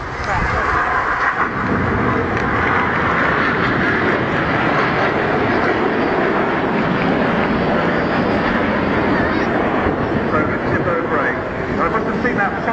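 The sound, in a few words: Red Arrows jets flying synchro pair manoeuvre at airshow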